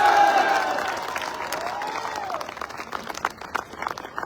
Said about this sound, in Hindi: ताली तो जबरदस्त बजनी चाहिए संस्था के लिए